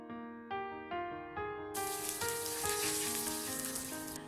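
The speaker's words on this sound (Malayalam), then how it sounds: "എണ്ണ ചൂടായാൽ 1 ടീസ്പൂൺ കടുക് ഇട്ടൊന്ന് പൊട്ടിക്കാം." A teaspoon of mustard seeds popping and sizzling in hot coconut oil for a vegetable stew, a bright crackling hiss that starts suddenly partway through and continues steadily beneath gentle background music.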